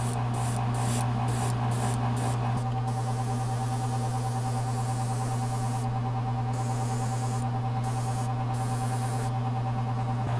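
An airbrush sprays paint with flow improver onto a Rollo bust from Vikings, a steady close hiss over a constant compressor hum, broken by several brief on-off bursts at the start and again later.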